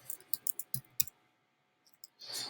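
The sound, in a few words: computer mouse clicking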